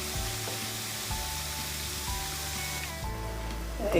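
Jaffna-style thattai vadai, flat Point Pedro lentil-flour crackers, deep-frying in hot oil give a steady, loud, dense sizzle and bubble that runs without pause, with a few soft bumps and no voices.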